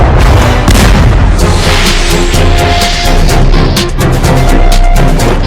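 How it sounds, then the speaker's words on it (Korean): Loud, dense sound effect of sudden gunfire and explosions near Jahamun gate, heavy booms and rapid cracking bursts overlapping continuously for several seconds. "자하문 근처에서 갑작스런 총성과 폭풍이 울려"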